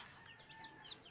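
Chickens cluck faintly and briefly on a farm, with a couple of short, soft calls standing out over a quiet background and no talking.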